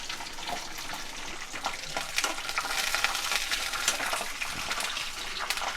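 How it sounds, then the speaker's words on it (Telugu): Peanuts fry in hot oil for a tomato-peanut chutney while being stirred, giving a close, steady sizzle broken by frequent scraping and rattling as the nuts are moved around the pan. "నూనె కాలినాక ఇలా పల్లీలు వేసుకోవాలి."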